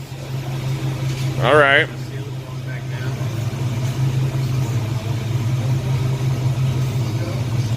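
A TBI fuel-injected car engine idles with a steady low hum throughout, while a person speaks briefly over it near the start.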